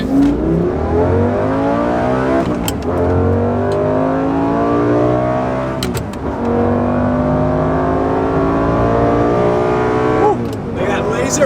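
A 2006 Lamborghini Gallardo with a six-speed manual accelerates hard, its engine howling upward in repeated rising sweeps broken by quick gear shifts, loud and close, with voices talking over it.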